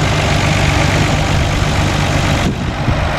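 A Nissan Skyline GT-R BCNR33 RB26 engine idles loudly and steadily at close range, a constant low rumble with no talking.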